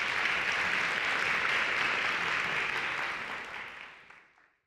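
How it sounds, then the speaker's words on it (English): An audience applauds at a women's day forum, a dense, steady wash of many hands clapping that holds for about three seconds and then fades away to silence. "Everyone, please give Shannon a round of applause."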